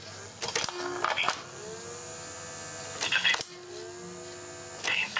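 Inside a Rank Arena boombox with worn belts, the cassette mechanism gives repeated clunks and clicks as play is pressed, with a low motor hum underneath and short whining tones.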